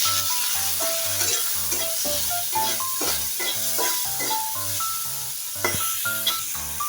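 Shrimp frying in a pan with a little salt and turmeric, a steady sizzling hiss running throughout beneath a prominent melodic music track.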